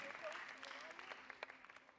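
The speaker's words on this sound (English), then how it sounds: "ladies, a special round of applause to Somalia" An audience at a Miss World pageant claps for Miss Somalia, a soft, distant patter of applause with a voice talking over the first part before scattered claps trail off.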